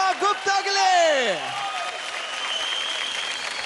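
Applause from a television dance competition audience after a duet performance, starting under a sweeping musical sting and loud voices, then settling into steady, dense clapping for the rest of the moment.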